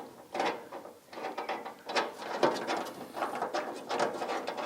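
A hand ratchet clicks in quick, uneven bursts while tightening a nut behind a headlight on a David Brown 990 tractor, close and fairly soft, the metallic ticking repeating throughout.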